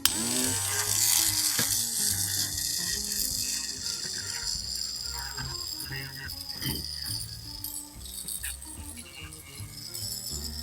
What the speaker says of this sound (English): So I got my rotary tool here. I'm just gonna carve them out a little bit